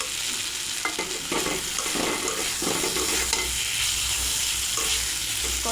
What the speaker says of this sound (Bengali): এবার সরিষা বাটা নিয়ে একটু গুলিয়ে দিয়ে দেবো।